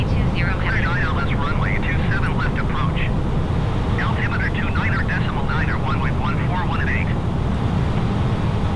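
Airbus A320 on approach to a runway in a flight simulator game, a steady broad jet engine rumble running under chirpy radio-style speech throughout.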